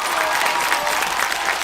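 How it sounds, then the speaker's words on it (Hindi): Steady, dense applause from a crowd at a poetry recital, loud and continuous throughout with no pauses. "भरपूर तालियां, भरपूर तालियां, थोड़ी और"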